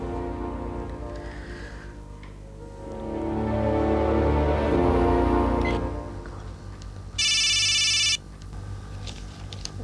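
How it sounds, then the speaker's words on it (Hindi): A telephone rings under a swelling music bed, its ringtone clear and close before cutting off. "तुम उठाओ ना फोन"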